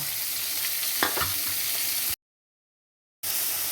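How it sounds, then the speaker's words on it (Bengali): Finely chopped tomato fries in a pan with a constant close sizzle and a few scraping stirs. The sound cuts to total silence for about a second, then the sizzling returns. "একদম কুচি কুচি করে কাটা টমেটো দিয়ে ভালো করে ভেজে নেব"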